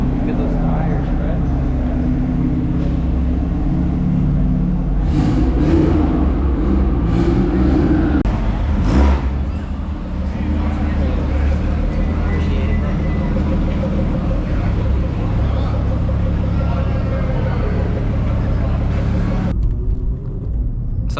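A Nissan Z sports car's engine rumbles deep and heavy, with a few brief surges of revving partway through before settling back into a steady idle-like growl, close and loud.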